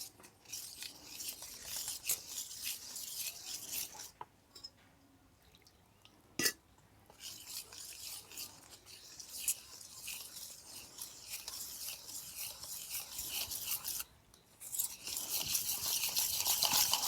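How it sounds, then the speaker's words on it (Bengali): Flour, milk powder and water are mixed by hand into jalebi batter: faint, wet scraping and sloshing strokes come and go, with brief quiet pauses between them. "এবার অল্প পরিমাণে জল দিয়ে এই সমস্ত কিছু মিশিয়ে নেব।"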